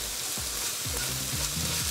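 Basil sprinkled into a pan of cauliflower gnocchi sizzles steadily and close by, with a few low knocks and scrapes of stirring through the short stretch.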